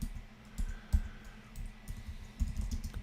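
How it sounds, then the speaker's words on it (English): Keystrokes on a computer keyboard at a desk while software text is entered, a string of soft, close clicks in uneven bursts over a low background hum, with no talking. "I might type in apartment in capitals"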